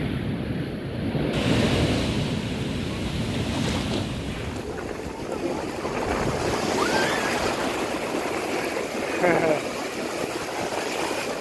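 Surf washing onto a beach with steady wind buffeting the microphone, a continuous broadband roar that rises and falls, with brief faint voices and a short bird-like call in the middle.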